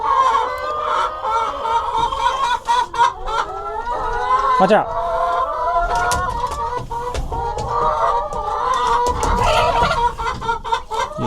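Hens cluck and squawk close by in a chicken coop, a busy overlapping chatter with one sharp rising call, while a person speaks briefly over them.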